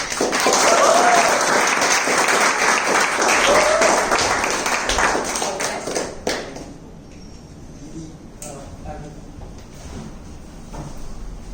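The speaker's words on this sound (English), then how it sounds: "Let's welcome Harris on stage to speak about how humans are like watches. Interesting. With a round of applause." An audience applauds a speaker, dense loud clapping filling the first six seconds before thinning out to a few scattered claps and quiet room noise.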